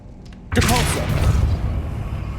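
A Depulso spell in the game Hogwarts Legacy lands as a sudden loud blast, then rumbles and fades over about two seconds, with a brief voice just before the burst.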